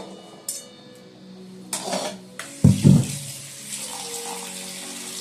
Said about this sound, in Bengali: বাঁধাকপিটা ধোবো ধুয়ে একটু ভাপাতে দেবো